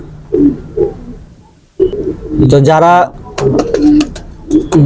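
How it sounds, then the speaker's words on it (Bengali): A female pigeon, one being shown for sale, gives a cooing call in the middle of the clip, with short, rapid, repeated pulses. Someone speaks before and after it, and there is some rustling handling noise. "তো কবুতরটি ছেড়ে দেখাচ্ছি মাদি কবুতর"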